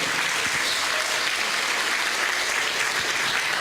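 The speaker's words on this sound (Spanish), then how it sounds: "Denle un aplauso al Señor" A church congregation applauds during a sermon, a dense, steady wash of many hands clapping together, loud and continuous throughout with no gaps.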